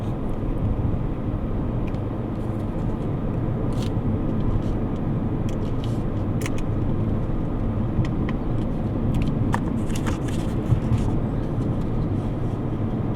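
A car engine drones steadily through a gear downshift, a loud continuous rumble with road and cabin noise and little change in level, no talking.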